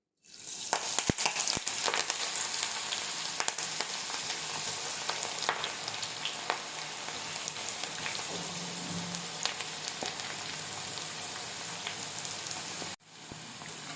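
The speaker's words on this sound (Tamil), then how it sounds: "எண்ணெய் நல்லா சூடாகிடுச்சு நம்ம அப்படியே கொஞ்சம் கொஞ்சமாக பக்கோடா போட்டு எடுத்துக்கலாம்" Drumstick leaf pakoda frying in hot oil, a dense, continuous crackling sizzle like steady rain, close and even throughout, with a brief dip near the end and no talking.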